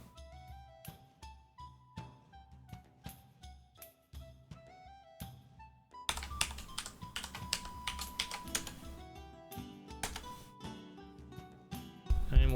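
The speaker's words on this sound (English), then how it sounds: "And why can you guys hear my keyboard?" Computer keyboard typing, a dense, continuous run of quick clicks that starts soft and grows louder and busier partway through, with no talking.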